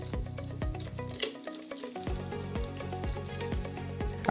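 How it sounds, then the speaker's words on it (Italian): A cocoa paste being stirred in a bowl for a decorated birthday cake, with repeated soft scraping strokes in a steady rhythm, close and fairly quiet, broken by a brief pause midway. "Mescola bene fino a quando otterrai una pasta di cacao omogenea."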